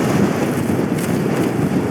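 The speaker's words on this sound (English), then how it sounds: "It's quite windy though, isn't it?" Steady wind roars across the microphone on a winter backpacking trip along the Herriot Way, a continuous loud buffeting rush with no voices.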